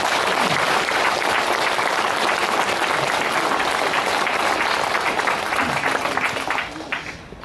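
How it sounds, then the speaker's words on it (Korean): A church congregation claps in thanks at a parish thanksgiving Mass, loud and dense applause that carries on evenly before tapering off near the end. "서서로 고마운 감사의 박수."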